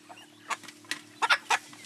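Short-legged village chickens in Tanzania cluck in a few brief bursts, the last ones louder and closer, over a low steady hum with no one speaking.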